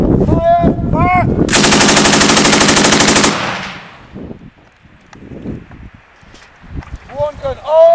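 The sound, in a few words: machine gun firing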